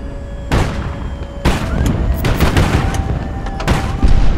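Gunfire and explosions from the naval strategy game HighFleet, with loud booming blasts at intervals over continuous rumbling battle noise, including ammunition and bomb detonations.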